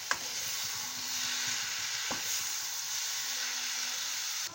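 Mushrooms and soft tomato are stirred in a frying pan under a continuous sizzling hiss. A couple of faint scrapes and low tonal hums sit beneath it, and no one speaks.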